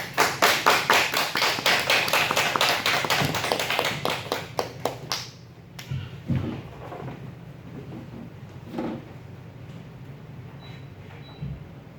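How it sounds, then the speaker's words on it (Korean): A church congregation in Korea applauds to welcome a missionary, with loud, dense clapping for about five seconds that then fades into a quiet room with a few soft thumps. "우리 나오실 때 박수로 한번 환영하겠습니다."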